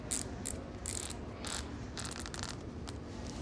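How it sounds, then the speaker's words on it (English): A Boa dial on a snowboard boot clicks rapidly in short ratcheting bursts as it is turned and spun to tighten the laces, close and fairly quiet. "I click this down and then I can spin it and it starts to tighten"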